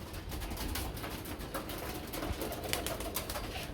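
Pigeons at a market stall selling pigeons coo softly, with a faint, continuous murmur of calls and some rustling in the background.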